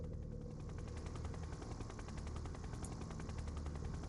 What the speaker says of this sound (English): These towers here have just chain guns